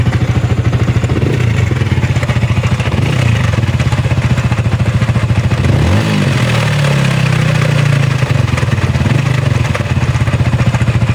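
A loud Yamaha Sniper 155 VVA motorcycle engine with a noisy cylinder head idles roughly and revs up several times, close by, with a rattling, noisy tone throughout.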